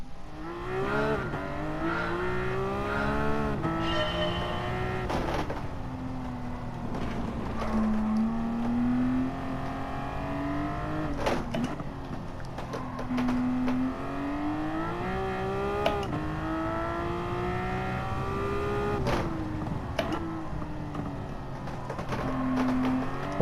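Porsche engine in a racing video game, a steady droning tone rising and falling in pitch through gear changes and corners, continuous and fairly loud throughout with no talking.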